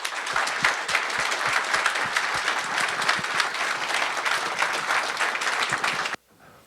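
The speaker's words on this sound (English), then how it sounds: "please, let's give a warm round of applause for Scott Thomas" An audience gives warm applause for Scott Thomas at a truck driver training conference, with dense, steady clapping that rolls on for several seconds and then stops abruptly, leaving quiet room tone.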